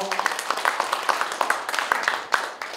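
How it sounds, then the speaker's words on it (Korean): Audience at an art awards ceremony clapping, a brief burst of scattered hand claps from a modest crowd, fairly close and steady throughout with a voice briefly present at the start. "박수 한번 보내주십시오."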